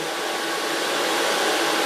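A blow dryer runs steadily at close range while hair is styled with product, a loud and even whooshing hiss that does not change.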